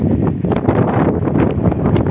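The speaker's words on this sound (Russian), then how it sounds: "какой здесь ветер" Loud, steady night wind in Yeysk buffeting the microphone, a constant low roar with gusty rumbles and no clear speech.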